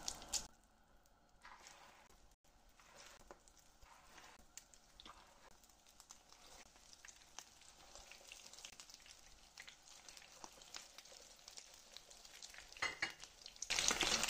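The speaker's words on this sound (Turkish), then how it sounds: "yumurtaya buladığımız kadabudu köftelerini hemen yağın üzerine alıyorum kızarmak üzere" Egg-coated kadınbudu meatballs sizzle steadily in hot frying oil, a soft, continuous crackle that brightens near the end.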